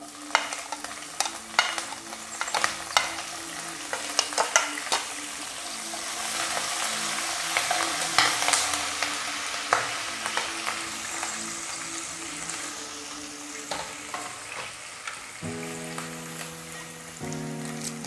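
Green chillies frying in a pan for South Indian lemon rice, a steady crackling sizzle with stirring clicks, alone and fairly close, before music rises at the end.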